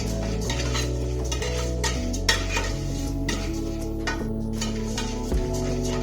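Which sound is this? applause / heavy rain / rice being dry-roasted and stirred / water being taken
rice being dry-roasted and stirred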